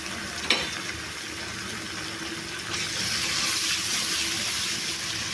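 Ginger garlic paste frying with onions in a pan, a steady soft sizzle with a brief clink near the start and the hiss swelling slightly louder midway, no voices.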